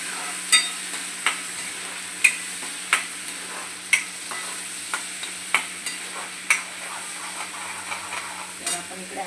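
Eggs and masala frying in oil while being stirred, a steady sizzle broken by regular scraping strokes roughly once a second, close and moderately loud with no talking.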